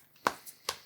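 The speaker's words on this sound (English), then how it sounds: "So let me just shuffle again." Tarot cards shuffled by hand in a quiet room during a card reading: two crisp riffling bursts about 0.4 seconds apart, with a fainter flick between them, close and fairly soft, with no voices.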